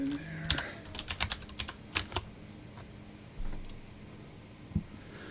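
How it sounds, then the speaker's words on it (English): Someone is typing on a computer keyboard during software sprint planning. The keystrokes come as sparse, crisp clicks in short irregular bursts, close and fairly quiet, and soft background murmur runs underneath. "Type that in there."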